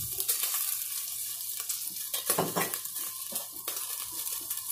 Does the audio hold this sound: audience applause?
no